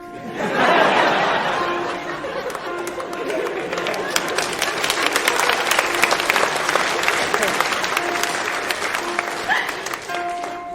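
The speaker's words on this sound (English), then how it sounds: "Another round of applause for our wonderful musicians" A crowd applauds musicians at a live show, a burst of clapping swelling early and then holding as a continuous dense patter, with laughter and a voice heard among it.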